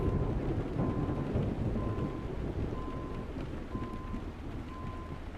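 Steady, dense video game rainfall in Euro Truck Simulator 2 with a low rumbling wash, continuous and unbroken, with faint periodic tonal blips running underneath.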